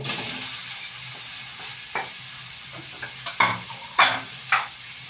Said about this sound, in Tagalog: And then, lagyan na natin yung ating sayote.